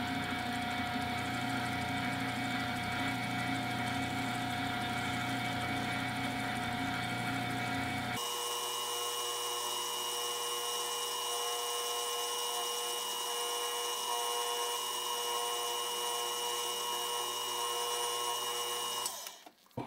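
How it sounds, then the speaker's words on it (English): Leather edge burnishing machine running, a steady dense motor whine with tonal hum, changing pitch and tone partway through as the load shifts, then stopping abruptly at the end, with no talk. "I'm going to turn this on, and we're going to go all the way down the line"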